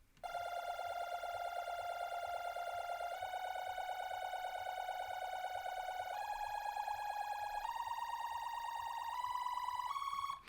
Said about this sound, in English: It keeps using the wacky synth, which just keeps holding these long notes that are ascending in pitch,